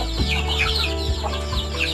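Several chickens cluck and chatter close by in a busy, overlapping flock, with a steady low background hum.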